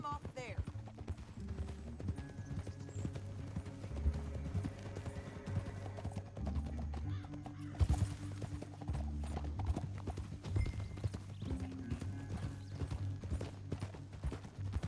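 Video game horse hoofbeats clop steadily over a low droning music bed, with a brief horse whinny and a burst of distant gunfire midway.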